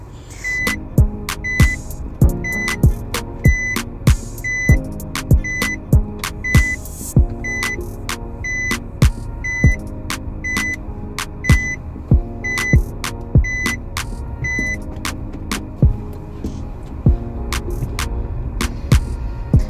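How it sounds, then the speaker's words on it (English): A car reverses on a road in Jamaica, its reversing alarm giving a steady, evenly spaced beep over a low engine hum and rumble for the whole stretch. "I am reversing."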